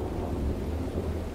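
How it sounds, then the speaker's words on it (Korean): Heavy rain pours down in a dense, continuous roar. A deep thunder rumble swells underneath it, loud and close, with no pause. "천둥이 하늘을 쥐어 흔들면서 암석 투성이의 지표면으로 비가 퍼부었다."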